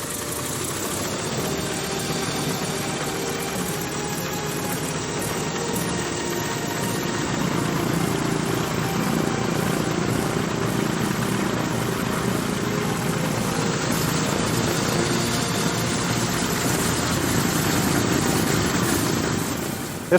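A restored C-47 transport plane engine runs uncowled at steady idle, a continuous broadband drone and rumble that swells slightly partway through and holds loud and even with no talk over it.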